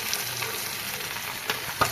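Large pieces of fish fry on a flat tawa with a steady, close sizzle, and a couple of sharp crackles and pops come near the end.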